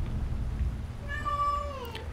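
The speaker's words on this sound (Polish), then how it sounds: "ona miauczy tylko i wyłącznie, kiedy ja nagrywam" A house cat meows once, a drawn-out, rising-then-falling cry that is loud and close, heard over a low steady indoor hum after a brief quiet stretch.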